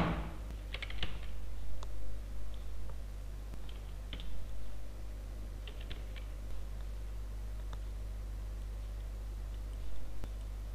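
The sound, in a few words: typing on a computer keyboard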